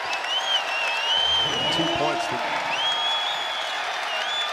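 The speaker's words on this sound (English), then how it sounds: "Crowd in the KFC Yum Center has come alive again." A basketball crowd inside Louisville's KFC Yum Center cheers and applauds in a sustained roar, with whistles above it, while a commentator talks briefly over the noise.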